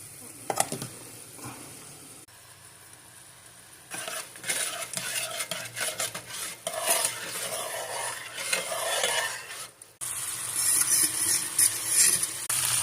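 Chicken and rice cook in a pot with a cup and a half of water, heard as a spoon stirring and scraping and faint bubbling and sizzling, close and moderately quiet.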